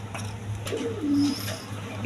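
Pigeons coo at a pigeon market, a soft, continuous cooing that rises and falls over a steady low hum, with faint background chatter.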